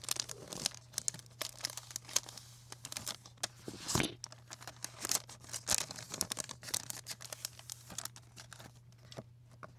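Crinkly plastic packaging torn and crumpled open around Hobonichi planner folders, a dense close run of crackling, rustling and tearing bursts that carries on throughout, with no voices.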